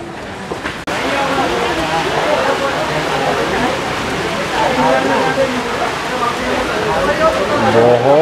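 Heavy rain pours outdoors on the Vaishno Devi pilgrimage route during a storm, a loud, continuous broadband roar of falling water with people talking over it.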